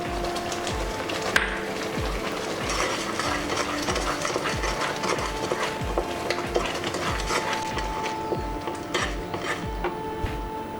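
Wheat rava halwa with jaggery being stirred in a pan: a steady, rhythmic scraping and thumping of a spoon against the pan, continuous and close, with no voices.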